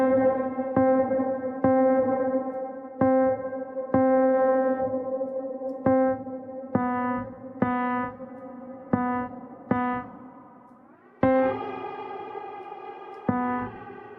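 The K-Devices Magma app's memory effect on an iOS device plays a series of repeated tonal hits. Each one rings out and fades slowly into a long decaying tail before the next strike.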